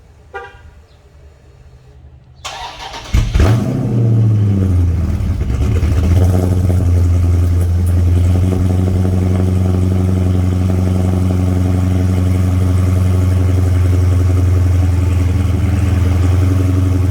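Dodge Scat Pack with a 392 engine, Dynomax exhaust, mid-pipe and muffler deleted, starts up with a loud, deep bark and then settles into a steady, heavy rumble, close and alone with no talk.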